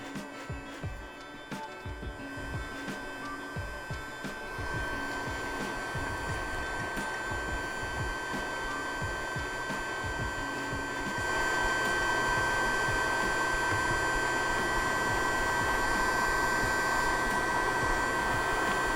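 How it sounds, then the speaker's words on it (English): A heat gun blows a steady, hissing stream of hot air with a constant hum, growing louder partway through as it works near a BMW E60 5 Series instrument cluster; faint handling clicks at the start. "once the heat gun is nice and hot, you want to just heat up the area a little bit"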